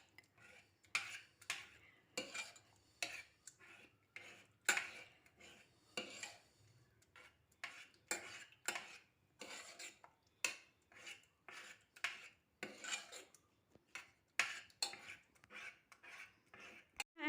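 A spoon mashes pressure-cooked rice in milk for instant rice kheer in a pressure cooker, giving repeated soft scraping and clinking strokes against the pot, steady and close, with no talk.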